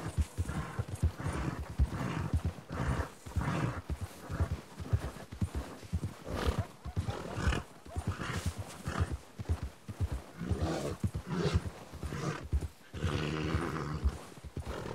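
A horse is close by, its hooves clip-clopping in a steady rhythm, with occasional snorts and a whinny standing out over the footfalls.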